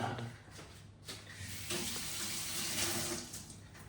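Tap water runs steadily into a kitchen sink while a fork is rinsed, the flow filling the whole stretch with a continuous splashing hiss and no talk over it.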